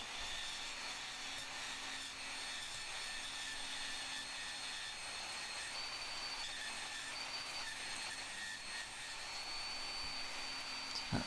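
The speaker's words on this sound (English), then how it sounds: "The way that bandsaw blade is jinking about, I've got a feeling that's going to break shortly." Bandsaw cutting metal with a worn, wandering blade: a steady, continuous whine and hiss with high squealing tones running throughout, loud and unbroken for the whole stretch.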